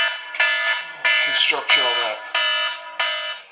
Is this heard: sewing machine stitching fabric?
no